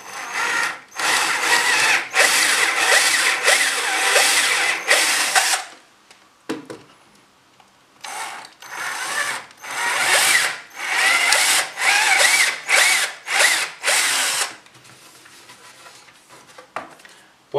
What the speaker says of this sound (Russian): Ставлю сверло и делаю отверстие.